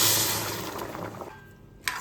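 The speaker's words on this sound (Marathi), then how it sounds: "ज्या वाटीने तांदूळ घेतले होते त्याच वाटीने 2 वाटी गरम पाणी घालायचे।" Hot water pours steadily into a pot of rice for Maharashtrian narali bhaat, a close, rushing splash that thins and fades, ending with a brief clink.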